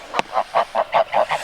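A flock of wild geese guarding three small goslings sounds off near a garden path in a rhythmic series of six or seven loud, nasal honks after a brief sharp rasp, with no talk.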